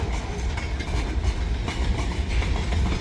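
A train rolls along railway tracks with a steady low rumble and rhythmic clatter of wheels over rail joints, moderately loud and continuous, with no talking.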